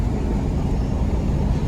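A second-generation Cummins truck cruises down the highway at about 75 mph, a constant heavy rumble of engine and road noise that stays loud and steady throughout.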